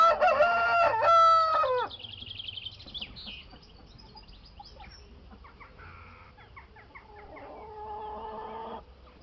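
A rooster sound effect crows loudly and up close, with two bold crows at the start followed by softer clucking and fowl calls trailing off.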